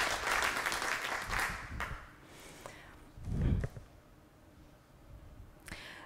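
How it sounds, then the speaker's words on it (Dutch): An audience at a presentation evening applauds the first speaker, Linette Dijk; a dense burst of clapping fills the opening two seconds, then thins and fades out, leaving a quieter room with a few scattered sounds. "Mag ik een applaus voor onze eerste spreekster,"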